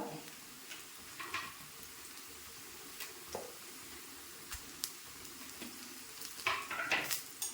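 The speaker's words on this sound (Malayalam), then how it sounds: "നമുക്കിനി ഇതിലേക്ക് വറ്റൽമുളക് ഇട്ട് കൊടുക്കാം" Dried red chillies fry in hot oil with browned onions for a raw mango curry tempering, giving a quiet, steady sizzle broken by soft clicks and scrapes of stirring.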